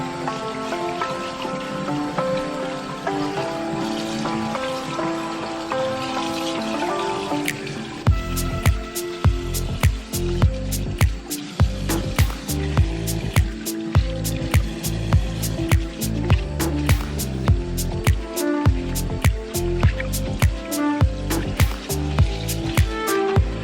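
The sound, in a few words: rinsing mermaid tail with fresh water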